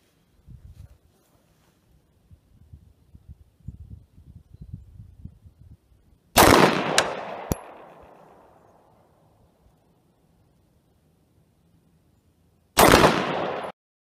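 A Wilson Combat custom Glock 19 Gen 5 fires SIG 115 grain Elite Performance full metal jacket rounds at a range, with two loud separate blasts several seconds apart, the first trailing off in a long echo after quieter handling noises.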